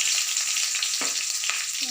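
Panch phoron and bay leaves fry in leftover oil in a wok, giving a loud, continuous close sizzle with a couple of brief scraping stirs.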